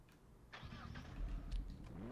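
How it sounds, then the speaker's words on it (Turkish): A car engine in Car Simulator 2 cranks and catches, then settles into a low idle rumble, brief and fairly close, with faint background sound around it. "Araba çalıştım."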